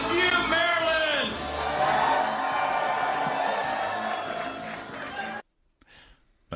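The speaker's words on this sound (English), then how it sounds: "That was Larry Hogan thanking Maryland. The very loud crowd" Loud crowd cheering and whooping for Larry Hogan after he wins a Maryland primary for U.S. Senate, a dense roar that fills most of the clip before cutting off to near silence.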